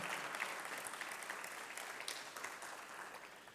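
Sustained round of applause from an audience at a South Jersey industry summit, a steady dense wash of many hands clapping at moderate level, fairly distant and continuous throughout.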